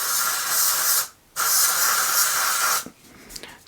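Two long hissing bursts from an aerosol body spray can, sprayed onto permanent marker, the first about a second long, the second stronger and longer, separated by a short pause.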